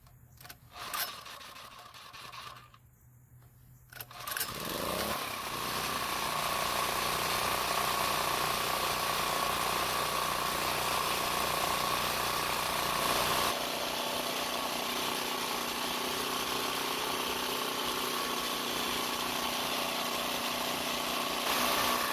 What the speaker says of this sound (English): So the generator is starting and working like it's supposed to